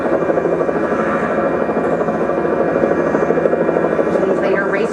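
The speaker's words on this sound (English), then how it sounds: "These later racers, they've got the helicopter going." A camera helicopter flies over a men's downhill ski course at Wengen, its loud, steady rotor and engine drone continuous and close throughout, with a commentator talking over it.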